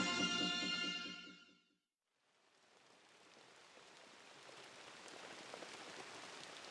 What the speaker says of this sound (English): For much of the year in the Amazon, it rains.